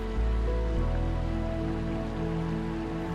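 A river flows right beside a lakeside or forest campsite, a steady broadband wash of moving water that stays close and even throughout, with some low tonal hum underneath and no talking.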